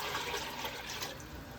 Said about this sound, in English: that other 1/2 gallon of water that I had saved, I'm going to go ahead and put that in here.